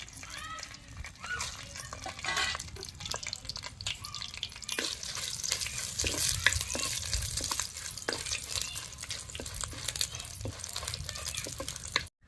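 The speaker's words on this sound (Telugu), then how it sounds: "ఒక పదిహేను ఎండి మిరపకాయలు మంచిగా తొడవలు తీసి వేయించుకోవాలి" About fifteen stemmed dried red chilies fry in a little hot oil in a pan, a crackling sizzle with frequent sharp pops and occasional scraping from a spoon, close up, ending abruptly.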